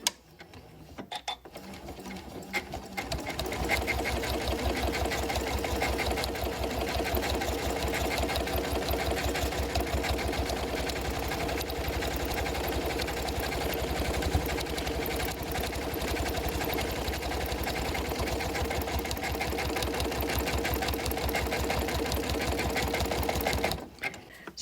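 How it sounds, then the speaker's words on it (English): A sewing machine with the AccuFeed Flex system stitches decorative stitches on quilting fabric, a loud, steady mechanical whir that runs continuously for over twenty seconds. "on this machine you can set it up to work on decorative stitches too."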